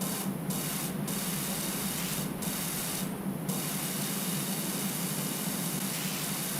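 A pressure washer nozzle in PowerWash Simulator sprays in a steady, hissing rush that runs without a break, its tone briefly shifting a few times early on as the spray moves across surfaces.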